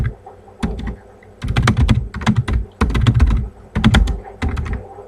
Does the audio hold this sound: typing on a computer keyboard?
yes